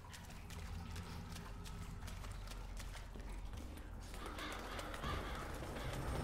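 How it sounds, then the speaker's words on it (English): Crows caw in the F.3.A.R. video game, rough calls set against a loud, dense bed of game ambience and mechanical clatter, with no one talking. "Low-res crows, nice."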